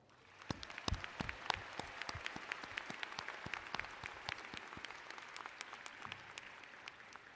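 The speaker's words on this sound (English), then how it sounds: "Graduates, please join me in a round of applause." Applause from a large crowd at a college commencement ceremony, a sustained dense patter of many hands with sharp individual claps popping out, rising quickly and holding steady, heard from some distance.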